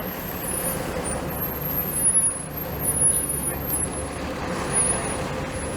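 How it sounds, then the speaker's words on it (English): Streetcar replacement buses on a diverted route along Queen Street in Toronto rumble past as a steady low engine drone with swelling roadway noise, while a voice speaks over it. "There's some Queen Street streetcar replacement buses that had to be diverted around that closed stretch of streetcar track."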